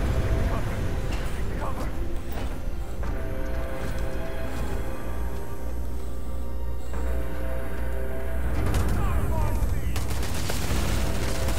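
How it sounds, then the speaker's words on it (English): Rapid gunfire in the video game Starfield, a continuous loud barrage of shots and impacts running the whole time, with a dense rattling stretch near the end; a voice talks briefly over it. "Oh, they're shooting really fast."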